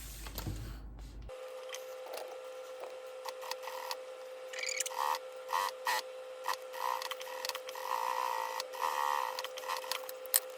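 A sewing machine topstitching a zipper into the frame of a fabric zipper pouch, its steady motor hum running under intermittent mechanical clicks and clatter in uneven bursts.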